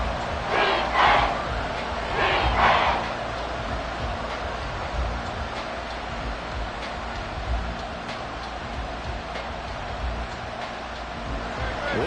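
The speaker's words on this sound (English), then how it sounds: "This crowd turning up the decibel level." A football stadium crowd roars in a steady, distant wash, with louder swells near the start that then settle into a sustained background rumble.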